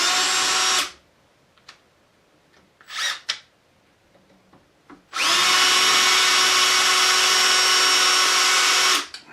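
A power drill with a left-hand bit grinds into a broken bolt in two loud, sustained runs, the second longer, with a few brief clatters in the quiet gap between.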